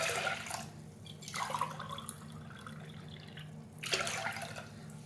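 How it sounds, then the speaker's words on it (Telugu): Soaked toor dal is rinsed in water in a kitchen: three bursts of splashing, swishing water with quieter gaps between, close and fairly soft. "బాగా శుభ్రంగా వాష్ చేసుకోవాలి."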